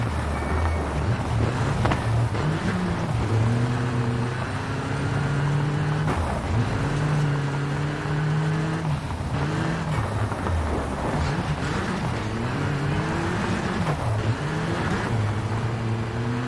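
Subaru Impreza rally car engine in the WRC 5 racing game, a loud continuous drone that rises and falls in pitch through repeated gear changes and revving.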